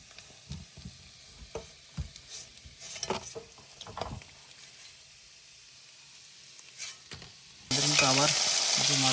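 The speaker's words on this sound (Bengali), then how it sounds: "মাছ কিন্তু এবার ভাজা দেওয়া শুরু করে দিয়েছে।" Khoira fish fry in a pan at night by a Sundarbans creek, a close crackling sizzle with scattered stirring clicks and brief voices, ending in a sudden loud burst of spitting oil.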